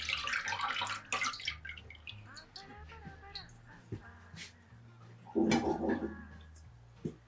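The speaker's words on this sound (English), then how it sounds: "Place the sieve over a mixing bowl and fill it with cold water. And pour it away straight." Cold water runs and splashes, with sloshing and trickling as sushi rice is rinsed in a sieve over a mixing bowl, with a brief gush partway through.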